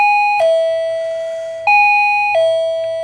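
A wireless remote doorbell rings three times when its switch is pressed, each press giving a bright two-tone electronic chime that sustains and overlaps the next, loud and close with no talking.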